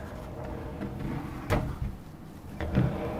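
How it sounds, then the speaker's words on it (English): A pocket door in a New York City interior rolls along its track with a soft rumble and a couple of bumps and knocks as it slides into place, close by and quiet. "So I have a pocket door here."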